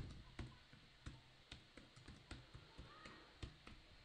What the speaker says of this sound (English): So I can type in my password now.